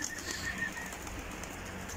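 Pigeons in a breeder's loft, faint soft cooing and bird calls against a quiet background.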